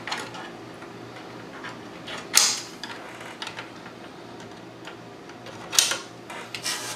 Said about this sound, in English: we can slide the side panels back on